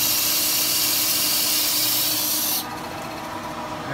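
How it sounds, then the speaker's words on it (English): Coolant and oil mixture squirting steadily during machining of a Ruger AR .204 rifle barrel, a loud continuous broadband hiss and spray that drops abruptly to a quieter, duller wash about two-thirds through, with no talking. "that noise you're hearing is a cool gas oil mixture, I guess, that squirts."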